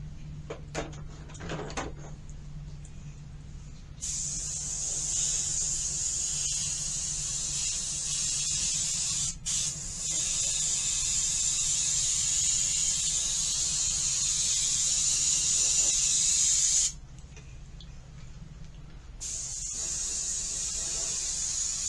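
An airbrush hisses steadily while spraying weathering onto a model gondola car, a soft continuous spray with a short pause before it resumes, after some faint handling clicks.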